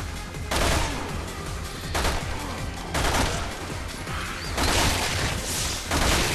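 Gunfire in Resident Evil 6 Mercenaries mode, loud bursts of shots and crashes coming in rough clusters about once a second, with no talk over them.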